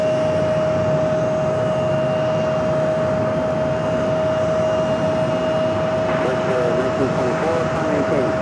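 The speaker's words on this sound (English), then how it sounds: "Going around, it was that WestJet flight 1924, 737-800." A WestJet Boeing 737-800 jet going around, its loud steady engine roar filling the whole stretch with a sustained whine on top and no voices.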